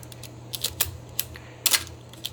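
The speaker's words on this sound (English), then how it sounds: "You push your shutter button and your film advances." Canon A-1 film camera firing its shutter and advancing film, several sharp mechanical clicks and short whirring bursts in quick succession, close and crisp against a quiet background.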